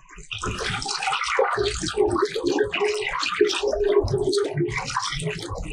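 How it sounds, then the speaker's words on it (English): Water running from a tap while cabbage is washed in salted water, a steady splashing and gurgling stream with uneven bursts as the leaves are handled, close and fairly loud. "So I'll wash the cabbage, I'll add little salt to it while I'm washing."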